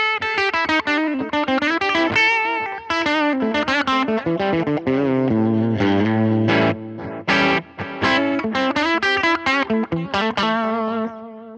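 An electric guitar on its bridge mini humbucker plays a run of notes and chords through a Line 6 Helix set to a gritty breakup tone, loud and up front with no talking.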